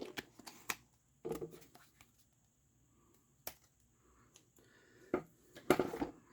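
Blades snip and paper crackles as the back section of a small sketchbook is trimmed away, in scattered short crisp bursts with quiet gaps between them.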